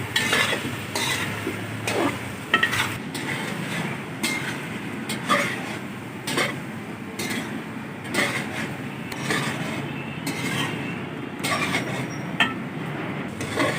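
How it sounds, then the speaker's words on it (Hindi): Potatoes and peas with mint cook in a pan for aloo matar pulao, giving a steady low sizzle broken by repeated scraping stirs and light clinks of a spoon against the pan. "आलू मटर को 10 से 15 मिनट अच्छी तरह पका लेंगे"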